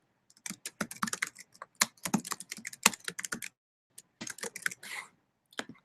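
Fast, steady typing on a computer keyboard, close and clear with no talk, broken by a short pause before a few more bursts of keystrokes.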